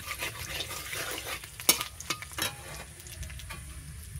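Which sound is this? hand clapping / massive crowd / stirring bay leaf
stirring bay leaf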